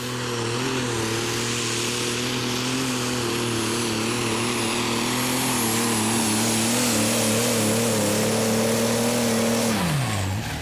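A John Deere 8520 superstock tractor roars down the track at the 2012 Eurocup tractor pulling in Herning, Denmark, a loud, sustained engine drone with a high whine above it, easing slightly in pitch before dropping away at the end.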